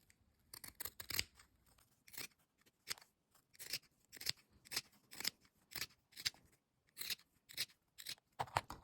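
Scissors snipping notches into fabric seam allowances on a small elastic headband, a steady series of quiet, crisp clicks in an irregular rhythm, close and alone.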